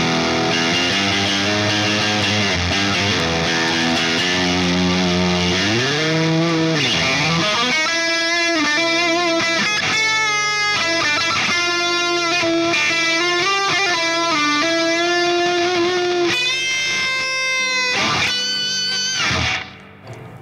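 Single-coil electric guitar pushed harder through a distortion pedal, loud sustained lead lines with bends and vibrato over chugging chords, ringing on alone before cutting off abruptly near the end.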